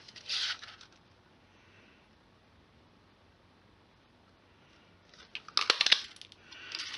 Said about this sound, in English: So we'll just punch him out.